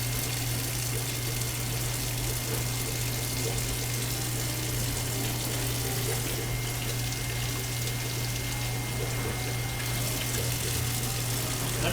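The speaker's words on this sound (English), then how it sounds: "we'll just run water through here to clean it out." Hot water flows steadily through a Zahm Nagel carbonation tester to rinse it, a continuous rushing stream with a constant low pump-like hum underneath and no talking.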